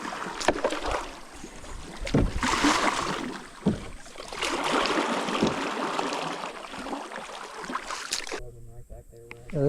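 A canoe is paddled on a river during a fishing trip, with intermittent splashy paddle strokes and water rushing close by under wind buffeting, ending in a brief quieter moment.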